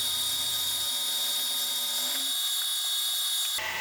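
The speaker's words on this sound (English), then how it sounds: "cut a shallow slot down the middle of the tool holder" A steady high-pitched machining whine as a cutter slots a steel tool holder, holding constant and then shifting tone briefly near the end.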